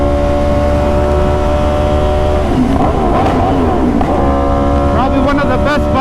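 An Aprilia RSV4 sport motorcycle droning at speed, its engine note dipping and rising through quick gear changes with a quick shifter, a burst of rapid rev blips near the end, loud and close against wind noise.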